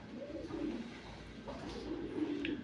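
Soft, low pigeon cooing, close by, continuous rolling coos repeating through the clip over a quiet background hum.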